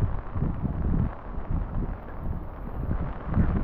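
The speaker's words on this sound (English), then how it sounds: "see if the wind has subsided a little bit" Wind buffets the microphone in a steady low roar during a rainy walk with an umbrella, rising and falling in gusts with no talking.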